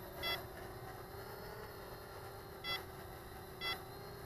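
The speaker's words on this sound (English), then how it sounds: "The remote control is beeping." The remote control of a Cheerson CX-20 Auto Pathfinder drone gives three short, clear beeps, widely spaced, over a faint steady background hum.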